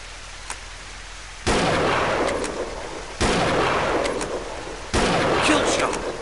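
Three rifle shots in the hunting video game Deer Drive, evenly spaced and loud, each a sharp crack that rolls into a long rumbling tail.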